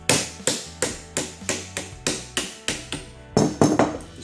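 Sharp metallic hammer taps loosening a fitting on a Graco 490 piston pump, about a dozen at a steady rhythm, with a slightly louder cluster near the end, close and ringing briefly.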